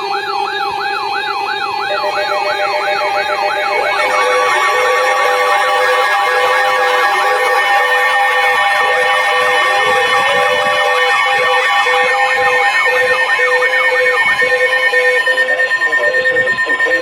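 Emergency Alert System broadcast for strong thunderstorms: loud, piercing two-tone attention signal warbling steadily, then a steady harsh tone joined by higher stacked tones, continuous and close throughout.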